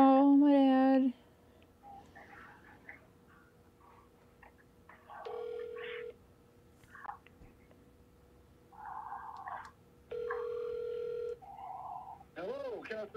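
A phone placing a call, with a ringback tone recurring in clear spaced bursts separated by quieter gaps, joined by brief electronic chirps and a short warbling tone near the start.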